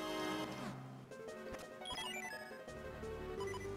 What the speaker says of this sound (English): that even made the Zelda 1 key dropping sound